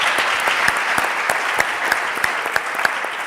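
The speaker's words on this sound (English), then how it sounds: "lots of people applauding here" A large audience applauds at a startup challenge final gala, with dense, steady clapping that carries on for the whole stretch, sharp individual claps poking out of the wash, and no voices over it.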